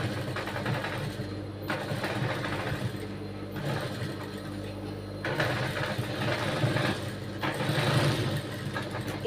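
An electric sewing machine stitching the back neck of a blouse, running in several bursts of rapid, whirring needle strokes with short stops between them, close up, with faint talking in places.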